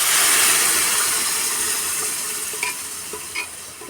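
Chicken curry sizzles and spatters in a hot pan as liquid is added, a loud, steady frying hiss that eases off gradually, with a few sharp pops near the end and no talk.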